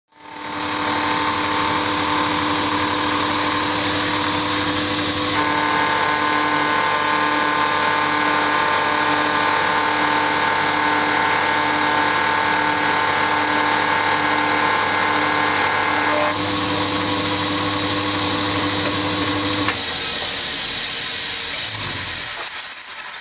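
A machine skims the surface of a Moto Guzzi Le Mans III custom top yoke, producing a loud, steady mechanical drone with sustained tonal whine that shifts pitch slightly a few times before winding down at the end.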